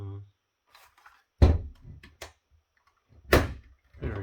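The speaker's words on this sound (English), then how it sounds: "let's see if we can destructively crack this open without cutting my fingers" The plastic casing of an AMX Modero NXT-CV7 smart home touch panel is pried open by force, giving two loud sharp cracks and snaps with smaller creaks between them. Someone talks near the start.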